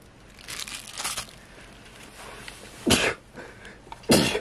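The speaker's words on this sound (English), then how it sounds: "Ah, I sneezed." A person sneezes indoors, with two short, sharp bursts standing out late in a quiet room after faint rustling of packaging.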